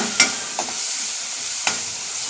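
A potato being stirred into a prawn curry in a pan, with a few distinct scraping clicks of the spoon against the pan over a steady soft sizzle.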